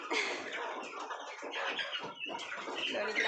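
A busy flock of chickens clucking and chattering continuously, several birds calling over one another at close range.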